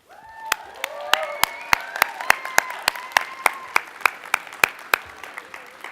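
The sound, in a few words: audience applause for friends and family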